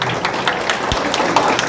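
Audience clapping at a calendar launch event, a steady patter of hands through the whole stretch with one low thump near the middle.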